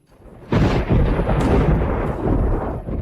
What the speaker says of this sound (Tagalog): Kung hindi, babagsakan kang kidlat.